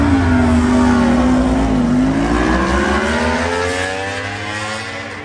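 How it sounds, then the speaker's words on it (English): A Ducati V-twin motorcycle at a drag race event at Atlanta Motor Speedway roars loudly at high revs, its pitch rising and wavering, then fading slowly as it pulls away into the distance. "I just love the sound of that Ducati."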